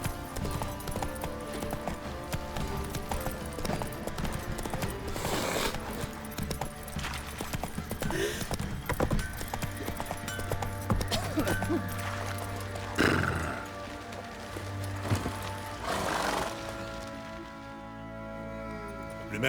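Horses in The Witcher 3 video game clop their hooves in a steady rhythm near a stable, with occasional neighs and snorts breaking through over ambient game music, no talking.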